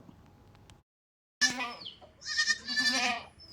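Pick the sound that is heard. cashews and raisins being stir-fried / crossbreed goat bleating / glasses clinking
crossbreed goat bleating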